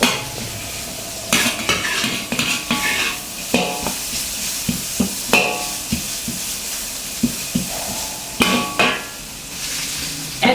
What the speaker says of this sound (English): Continue stir frying until the cabbage starts to wilt.